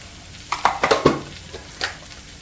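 Prawns fry on a hot tava griddle with yellowish seasoning and salt. A short cluster of sizzling, scraping stirs comes in several quick close bursts, then trails off to a quieter hiss.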